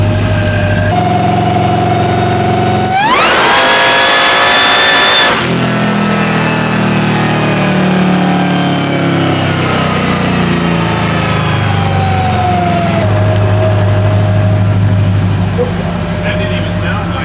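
A Hellcat-swapped 1972 Dodge Demon runs on a dyno and revs hard, climbing sharply to a loud, sustained high-rpm roar before dropping back to a rough idle and revving again. It is close and very loud, with voices partly buried beneath it.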